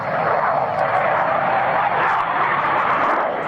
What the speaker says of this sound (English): that is from the French Navy, the Super Étendard